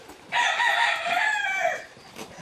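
Rooster on a chicken farm crowing once, a single drawn-out call with a falling ending, heard at moderate distance over faint background noise.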